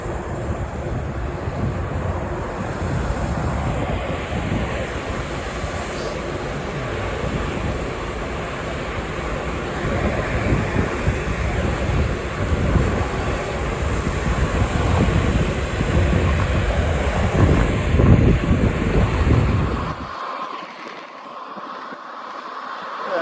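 An Emirates A380 airliner taxis in a blizzard toward runway 06 left in Toronto, a steady broadband engine roar mixed with wind noise, heard outdoors and fading abruptly near the end.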